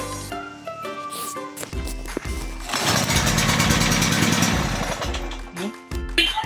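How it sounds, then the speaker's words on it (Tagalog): A generator engine cranks and sputters as someone tries to start it, a rough rumbling burst lasting a couple of seconds amid music and party noise at a catered wedding gathering. "Kanina pa pinaandar tong generator pero ayaw gumana."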